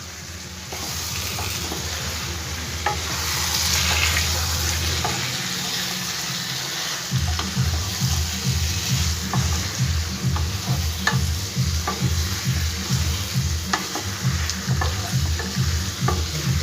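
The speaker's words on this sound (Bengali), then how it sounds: "মশলার সাথে চিকেনটাকে খুব ভালো করে আমি" Chicken being stir-fried with spices in a pan for dhaniya chicken, a steady sizzle with rhythmic stirring and scraping strokes throughout, close and fairly loud, with no talking.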